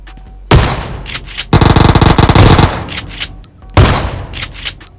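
Gunfire in the PUBG video game at Pochinki, where the player has a shotgun: loud, close blasts, with one long rapid burst between two single heavy shots.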